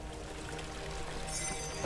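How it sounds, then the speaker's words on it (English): Water pours into a pipe in Amnesia: The Dark Descent, a steady close splashing stream lasting throughout with a brighter gush near the end. "Well, if it can't be reached, you just pour water into it, right?"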